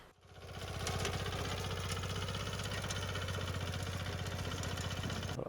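A Sharp Garuda power weeder engine runs steadily up close, a loud, even mechanical drone with a fast regular pulse that rises over the first second and then holds constant with no talking.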